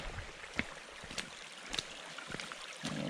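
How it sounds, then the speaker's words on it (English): Running water flows along a hiking trail soaked by overnight rain, a steady faint wash with soft trickles and a few light splashes throughout. "this is the trail. It is literally running water."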